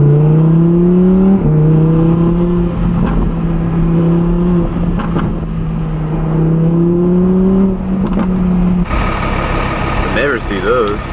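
An Audi R8 V10 Plus with a newly installed exhaust, valves closed, runs with a steady low drone and shifting engine harmonics that rise and fall through several gear changes, then a brighter burst near the end. Speech is present alongside the engine.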